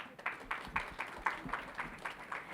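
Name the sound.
audience applause for moderator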